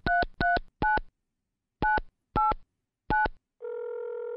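A telephone being dialed in Mon Bazou: six distinct touch-tone beeps in quick, uneven groups, clear and close, then a steady tone begins as the call connects.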